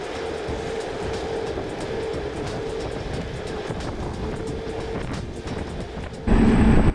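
Ninebot GoKart electric motor whining steadily while driving, with constant road and wind rumble and a louder burst at the end; no talking.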